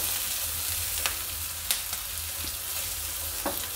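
Onion frying in hot oil with reddened garlic for a dahi tadka, a steady close sizzle with a few sharp crackles and stirring clicks, no voices.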